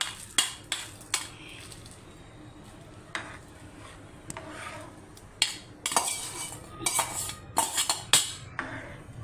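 Sabudana goes into a pot of boiling carrot mixture with a burst of metallic spoon clinks and scrapes against the pot, loud and irregular, growing busier toward the end.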